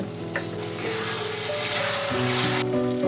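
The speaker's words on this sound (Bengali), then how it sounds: "এবার আমি সামান্য জল দিয়ে মশলাগুলো ভালো করে কষাবো" Spices for chicken ghugni sautéing with a little water in a pan, producing a steady hissing sizzle that swells toward the end, with music playing alongside.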